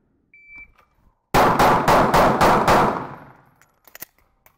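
Six quick handgun shots ring out close and loud in a tight, even string during a timed shooting drill, followed by brief echo and a few faint clicks and knocks, with no talk.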